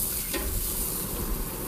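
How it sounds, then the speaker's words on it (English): Zucchini sizzles on a hot barbecue grill, a steady bright hiss with a soft clatter near the start, close and continuous without talk. "You hear that sizzle?"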